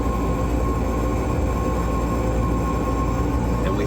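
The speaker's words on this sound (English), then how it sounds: "We've got the blower. The blower is now on" A 36-year-old Lennox G14 pulse gas furnace runs its blower fan: a loud, steady roar of moving air with a constant whine, unbroken from start to finish.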